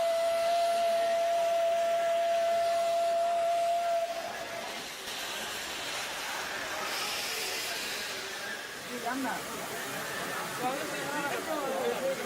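A steam locomotive on the Indian railways sounds a long, steady whistle, then steam hisses and the train rumbles as the whistle cuts off.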